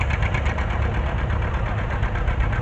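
An old two-cylinder standard tractor engine runs steadily at a farm stock tractor pull, weighted to about 12,000 pounds, giving a loud, close, continuous low rumble with a pulsing knock and no talk.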